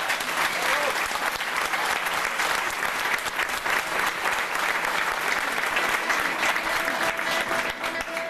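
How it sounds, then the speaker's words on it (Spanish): Sustained, full applause from an audience welcoming the Chilean folk group Los Afuerinos at a regional National Folklore Day celebration, even and unbroken throughout. "Señoras y señores, recibamos con un fuerte aplauso a los Afuerinos"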